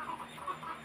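Chickens cluck softly in a quick, brief burst at a chicken farm, several close clucks running together.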